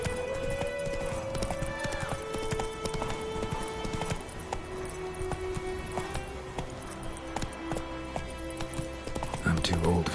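In The Witcher 3, a horse's hooves clip-clop in a steady, rhythmic gait, moderately close, under a sustained musical backdrop and occasional voice sounds.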